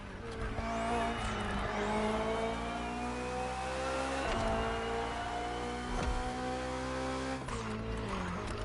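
A BMW hybrid V8 race car in the racing game The Crew Motorfest, its engine droning loudly and steadily at high revs, with pitch shifts between gears and brief tire squeals.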